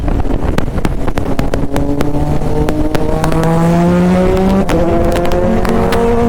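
A Triumph Daytona 675 inline-three superbike screams past at speed among other superbikes, its engine note climbing and shifting through gears in a loud, sustained howl with no speech over it.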